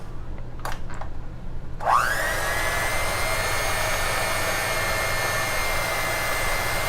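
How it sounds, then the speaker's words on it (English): An electric hand mixer whirs steadily through cream cheese pound cake batter, kicking in after a couple of faint knocks and holding a loud, even motor whine for several seconds, with no talking. "stuff just gets everywhere with this hand mixer"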